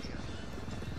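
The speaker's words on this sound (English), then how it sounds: "Yeah, it's that chopper." Helicopter in the video game Ghost Recon Wildlands, a steady low rotor drone filling the whole second under overlapping voice chatter.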